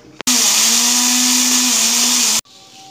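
An electric grinder whirs loudly at high speed for about two seconds as it grinds fenugreek seeds for a green chilli and lemon pickle, starting and stopping abruptly.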